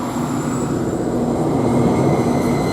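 A Greater Anglia diesel train departs Ely station toward Peterborough, its steady engine rumble and rolling hum filling the scene continuously at close range without any voices.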